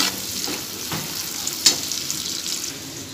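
Chicken frying in a pan as it is stirred over a low flame, a steady close sizzle with a few soft scraping strokes of the spoon.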